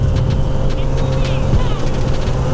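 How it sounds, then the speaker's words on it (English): A Honda CBR1000RR sportbike engine drones steadily while being ridden with a passenger on the back, a continuous close rumble mixed with wind rush. "We're back at it again on the CBR1000RR with old Abby on the back here."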